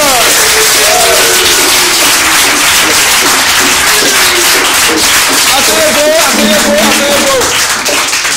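A church congregation claps and cheers to acclaim the Lord, a dense continuous burst of applause and crowd noise with a voice calling out over it throughout.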